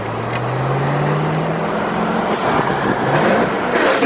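A 2004 Chevy Corvette drives along with a loud, steady engine and road drone, its pitch rising briefly as it accelerates, heard from inside the car.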